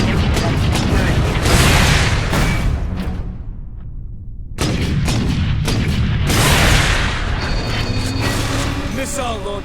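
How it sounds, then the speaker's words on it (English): Missile launcher fire in the video game Space Marine: loud booming blasts and crashes in dense game combat, with a short lull midway before heavy bursts resume. "Missile launcher."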